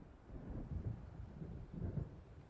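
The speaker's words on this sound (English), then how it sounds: "It seems there's a storm coming." A thunderstorm rumbles in the video game Alan Wake Remastered, with low rolling thunder swelling and fading over a steady wash of rain, and no talking.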